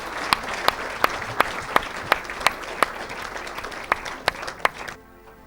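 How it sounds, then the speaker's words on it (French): A church congregation claps in unison for the Lord during a Pentecost worship service, sharp evenly spaced beats about three per second over a crowd murmur, ending abruptly near the end. "Put your hands together for the Lord."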